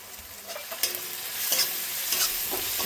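Ground turmeric, chilli and cumin frying in a pan, a bright sizzle that swells over a few seconds, punctuated by several sharp scraping stirs of a spoon.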